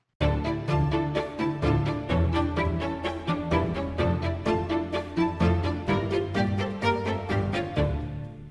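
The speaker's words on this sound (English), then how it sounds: "So I guess what you hear is the first violin." A first violin part in an orchestral EDM track plays a loud, rhythmic run of repeated bowed notes over a steady low pulse, lasting several seconds before cutting off.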